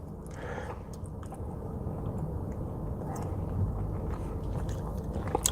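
Gum being chewed close to the mic: soft, moist, squishy mastication sounds repeat quietly over a low background hum, with no talking.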